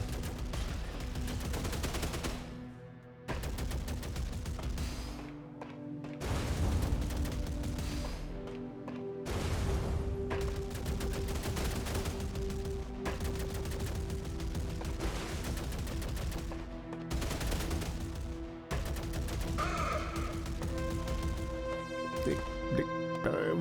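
Sniper gunfire rings out in the video game Neon Inferno, repeated sharp shots and bursts set against a tonal, music-like backdrop that continues throughout.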